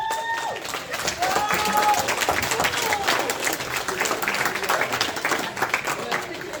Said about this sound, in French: On peut applaudir bien fort Guillaume.